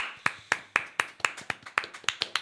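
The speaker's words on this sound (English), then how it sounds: "Let's get a round of applause for Connor." A small group claps for a few seconds, sharp close individual claps in a loose uneven rhythm, fairly quiet and with no voices over it.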